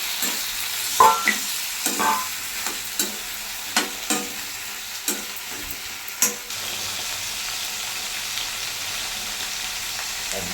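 Tomatoes fry in a pan with roasted peanuts, coriander seeds and garlic, a low sizzle under a regular series of sharp spatula knocks and scrapes, the stirring stopping partway through while the frying continues.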